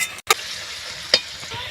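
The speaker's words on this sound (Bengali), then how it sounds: "রসুনটা ভাজা হয়ে গেছে" Garlic sizzles with onions in a hot pan, a steady close frying hiss broken by two sharp stirring scrapes.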